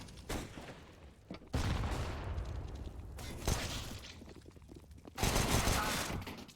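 Gunfire in a Counter-Strike match on the Train map, several bursts of rifle shots and rapid exchanges coming in waves, loud and close, with the heaviest volleys near the start and end.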